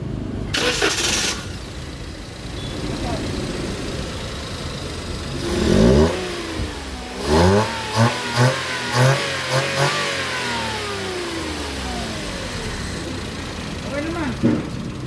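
A Toyota Wigo engine with abnormal idling and a P0200 fault cranks and catches, then revs in several sharp bursts before settling to an idle, with people talking nearby.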